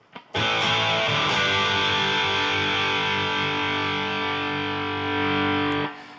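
Electric guitar chord played through Amplitube 5 amp simulation with a Peavey JSX model, delays and compressor switched off; one loud, distorted strum rings out sustained for about five seconds before cutting off, no talking.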